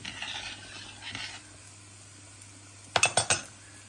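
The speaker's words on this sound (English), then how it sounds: "And then just stir all of that in" Ghee being stirred into a cooked dish: soft scraping and faint sizzle, then four sharp spoon-on-pot clinks close together near the end, no talk.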